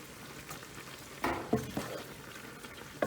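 Shrimp rotini in creamy tomato sauce with parsley being stirred in a pan, soft scraping and wet clatter of a spoon against the pan in a few brief strokes over a low simmer.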